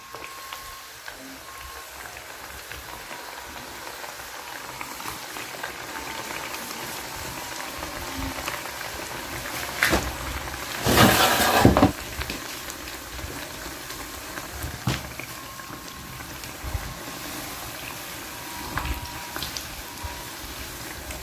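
Hot oil in a small saucepan frying traditional African breakfast snacks, a steady close sizzle and bubbling throughout, with a brief louder splatter burst midway and occasional pops.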